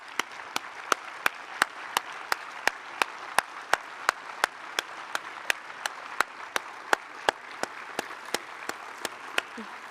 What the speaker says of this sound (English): So can you stand for clap,